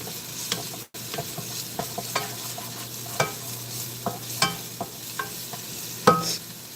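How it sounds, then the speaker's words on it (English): Small pieces of food sizzling gently in a pan while being stirred, a steady frying hiss broken by sharp clicks and scrapes of a utensil, recorded close with no talking. "So these are just coming to a little sizzle,"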